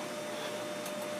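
A disc printer in a duplication room runs continuously, giving off a steady mechanical whir and hum with a faint tonal whine and no voices.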